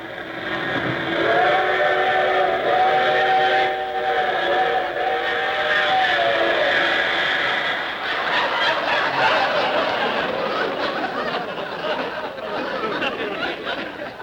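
The Super Chief train rushes past as a 1955 radio sound effect, with a loud steady multi-tone steam whistle blowing for several seconds, then rumbling wheel clatter that carries on to the end.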